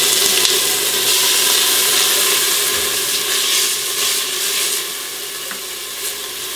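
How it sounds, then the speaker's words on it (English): Onions dropped into about a teaspoon of hot olive oil in a pan over a high flame, giving a loud, steady, close sizzle that eases slightly toward the end. "And we want to put our onions in."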